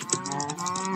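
Repeated cow moos from a blocky Minecraft-style video game, several short lowing calls in a steady run, fairly close and clear with no talk over them.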